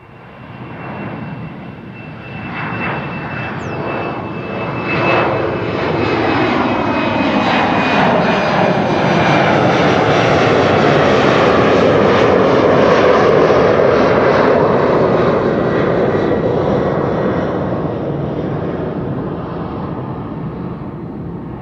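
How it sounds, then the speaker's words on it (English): A Boeing 737 jet airliner takes off from Schiphol airport on the Kaagbaan runway 24, a loud, sustained engine roar that swells over several seconds, holds steady, then slowly fades as it climbs away. "Must have been the 737 to Nice"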